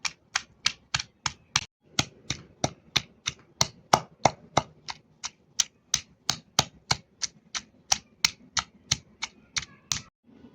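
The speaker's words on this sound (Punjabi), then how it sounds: "ਚਾਰ ਮਿਰਚਾਂ ਆਪਾਂ ਪਾਈਆਂ ਨੇ ਤੇ ਹੁਣ ਇਹਨੂੰ ਕੁੱਟ ਲੈਨੇ ਆ" Green chillies pounded for achari chutney, a steady run of about thirty sharp, evenly spaced thuds, close and crisp with short gaps.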